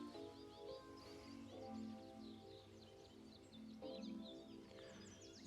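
At dusk in Big Morongo Preserve, birds call and chirp steadily over about five seconds, with overlapping tweets near and far above a faint, low musical hum.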